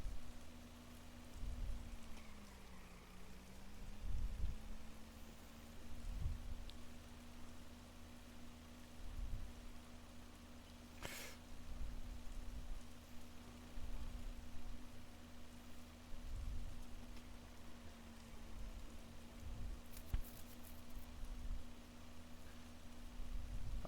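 Steady rain falls in the game Schedule I, a soft even hiss that runs the whole time at low level beneath a constant tonal hum.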